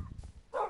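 Short dog bark from dogs in Minecraft, a low muffled yap followed by a sharper bark, brief and moderately close.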